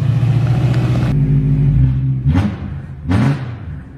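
A car engine revving hard after being jump started, a steady loud roar that cuts back, then two short sharp revs that swell and drop away, close by with no talking.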